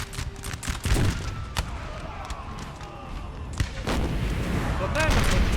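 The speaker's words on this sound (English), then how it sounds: "they keep loading the cannon" Napoleonic-era cannon artillery fire in Napoleon Total War sounds as scattered distant booms and musket-like cracks across a noisy battlefield, with someone talking over much of it.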